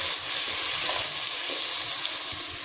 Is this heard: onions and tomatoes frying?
yes